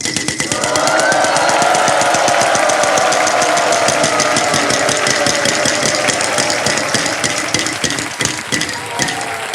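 A Wheel of Fortune game show wheel spinning, a loud rapid train of ratcheting clicks that slowly spread out as it loses speed, over a steady studio hum.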